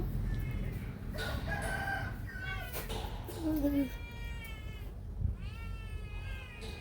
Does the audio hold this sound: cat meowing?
yes